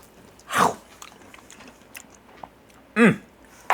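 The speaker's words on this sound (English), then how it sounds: "let's give them the old-fashioned chomp and see how we did" Two crunchy bites into smoked beef back ribs from a Weber kettle, a sharp chomp early and another near the end, with quiet chewing between.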